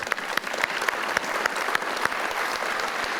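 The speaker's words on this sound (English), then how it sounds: "Let's give them a round of applause." An audience at an annual meeting applauds outgoing board members, steady moderate clapping with distinct individual claps standing out, continuing throughout without talk.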